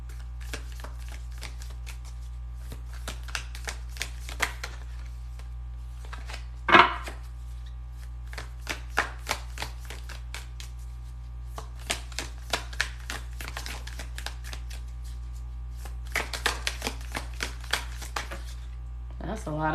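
Tarot cards are shuffled in a series of quick, crisp riffling bursts with scattered soft taps, all over a steady low electrical hum.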